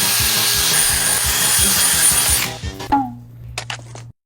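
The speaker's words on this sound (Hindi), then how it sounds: "ऐसी एक ड्रिल है जो मेरा डेंटिस्ट मेरे दांतों के लिए यूज करता है" A dental-style drill grinds into a block of ice with a loud, rough buzzing whine that runs steadily for a couple of seconds, then cuts out, leaving a few scattered knocks and scrapes.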